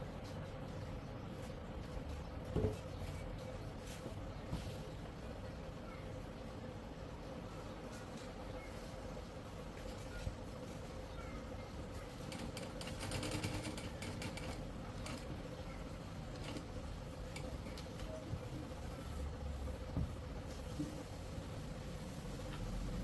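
A sewing machine stitches a ban collar onto a kurti, giving off a steady mechanical whir and rattle with a constant motor hum that runs unbroken at moderate loudness.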